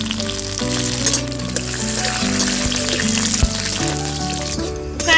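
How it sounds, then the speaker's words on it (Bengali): Cashews and raisins frying in a kadai with a little white oil and ghee, a loud, close, unbroken crackle and sizzle with faint stirring scrapes over a soft background hum. "এখন এতে আমি কাজু আর কিশমিশটা ভেজে নেব"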